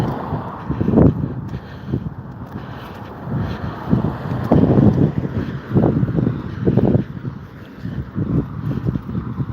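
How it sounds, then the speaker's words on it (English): Gusty wind buffets the microphone in repeated low rumbling bursts, loud and close, with no voices. "it is very windy here"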